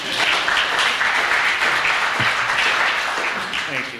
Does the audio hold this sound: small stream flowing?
no